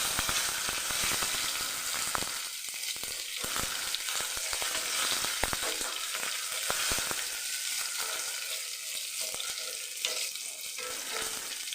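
Washed cashews and raisins fry in hot ghee, giving a continuous bright sizzle with scattered clicks and scrapes of stirring, close up and unbroken for the whole stretch.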